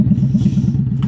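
A motorcycle engine idles close by to warm up before an oil change, chugging in a steady, rapid low rhythm at moderate loudness with no voices.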